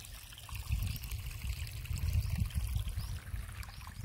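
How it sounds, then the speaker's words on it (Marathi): Water trickling along a cut channel and dripping down into an old farm well in the Konkan, a soft, continuous gurgling flow close by with small splashes and no voices. "मग ह्या पाणी असं खाली जातं सगळ्या वापलेत ह्या"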